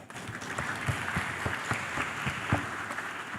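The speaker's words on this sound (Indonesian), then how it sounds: "Kami mohonkan aplaus untuk pembicara." An audience applauds steadily for a speaker at a formal Indonesian government ministry event, the clapping dense and sustained without voices.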